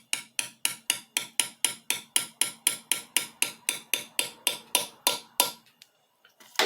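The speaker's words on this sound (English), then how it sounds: "Go on down, and we just tap it down." Valve stem seal being tapped down onto a Mitsubishi 4D56 cylinder head during an engine rebuild, about twenty crisp, evenly spaced taps in a steady quick rhythm, close and clear, then a short pause and a faint clunk.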